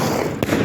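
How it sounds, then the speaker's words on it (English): Dense crackling and fizzing from sparkler fireworks at a display in Saltford fills the clip, loud and close, with one brief sharper pop partway through. "I refer these as sparklers."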